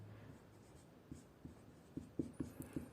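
A pen writes out a maths answer by hand, making soft scratching strokes that grow into a run of distinct taps and scrapes toward the end, faint and close against a quiet room with no speech.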